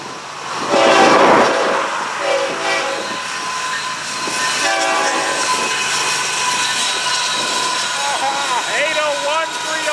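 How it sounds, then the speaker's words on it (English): A train rumbles past close by, its horn blaring loudly near the start and again later, with wheels clattering and squealing over the rails. "One late run train."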